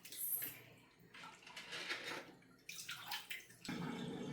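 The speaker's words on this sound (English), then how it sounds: "I'm going to drain this water because I really don't need it for anything else" Water drains from a home-brew beer bottling container into a sink, producing intermittent splashing and gurgling pours with brief pauses, fairly close and quiet.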